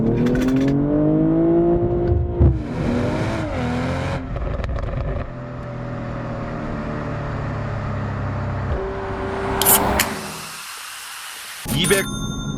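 A BMW M240i in sprint mode accelerates hard, its engine note climbing in pitch through several surges with gear changes, loud and close, before easing off near the end.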